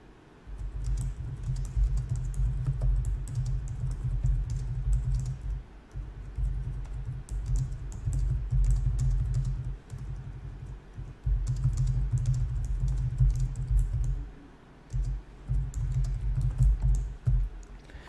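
Steady typing on a computer keyboard, a continuous run of close clicking keystrokes broken by a few brief pauses, with no voices.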